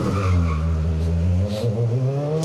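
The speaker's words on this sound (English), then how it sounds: "The four-wheel drive cars can drift it around and keep momentum with all 4 wheels, throwing the power at the asphalt" A four-wheel drive rally car drifts around an asphalt hairpin on a closed rally stage, its engine droning loud and steady with harmonic roar and brief tyre scrabble, no voices.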